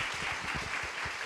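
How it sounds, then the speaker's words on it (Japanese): Audience applause at a church conference session, a brief, steady wash of many hands clapping together at moderate volume with faint low murmuring beneath. "大きな拍手をしたいと思います。"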